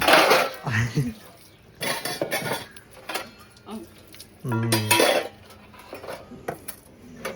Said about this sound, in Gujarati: जब वासन धो रही